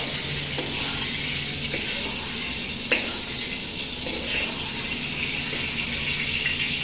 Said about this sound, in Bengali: বাকি পটলগুলো এইভাবে ভেজে নিই